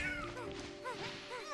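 Cat meowing inside the video game E.T.E Chronicle, several short rising-falling meows repeated over a steady electronic hum and game ambience, fairly close and moderately loud.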